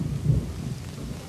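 Heavy rain with thunder, heard as a low, rolling rumble over steady rainfall that fills the whole moment at moderate loudness, without any voices.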